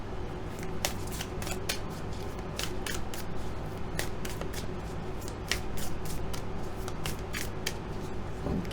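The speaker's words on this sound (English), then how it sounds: "let's draw you one of my Color Goddess casting cards" Oracle casting cards being shuffled and drawn by hand: sharp, close riffling snaps and slides in quick irregular bursts over a quiet room, with no talking.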